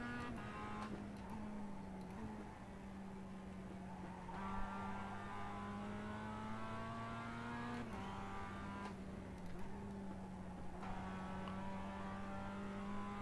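The engine of a Mazda production race car in the iRacing video game drones steadily through a lap, its pitch climbing and dropping through gear changes, with occasional faint tire squeal and no voices.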